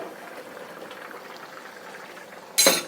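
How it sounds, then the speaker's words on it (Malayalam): Roasted-coconut village-style chicken curry bubbles steadily in a pot at a soft, even simmer, then a brief louder burst of sound rises near the end. "നല്ലോണം തിളയ്ക്കുന്നുണ്ട്"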